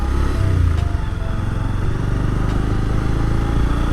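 A motorbike rides along a sandy off-road track near Companiganj, Sylhet, its mid-pitched engine droning steadily and close throughout, with no talk.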